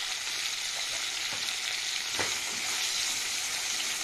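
Tomato masala with turmeric, coriander powder, red chilli powder and salt fries in a pan with a steady, dense sizzle, a few soft stirring scrapes breaking the even crackle.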